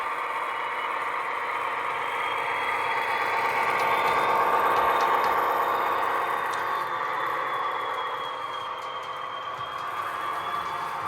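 A model Class 41 Warship locomotive fitted with an EM1-Ultra sound unit runs steadily around a layout, its engine drone and rattle holding at an even level with a faint high whine throughout, no voices present.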